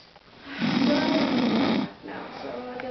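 A person asleep in a top bunk bed snores in one long, loud, rasping breath, then the sound drops to a quieter, softer breathing.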